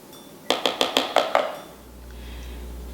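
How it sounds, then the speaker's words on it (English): A metal spoon clinks rapidly against a jar or bowl of chunky homemade hot sauce pepper puree, about six quick bright taps close by, then a low steady hum. "I'm gonna grab a spoon."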